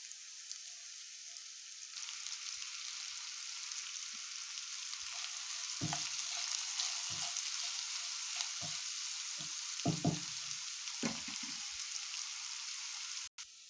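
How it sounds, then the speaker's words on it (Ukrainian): Onion and carrot fry in rendered pork cracklings in a skillet, a continuous close crackling sizzle with a few soft stirring knocks and a sharp clunk at the very end. "Підсмаживши на шкварках цибульку, додаю моркву."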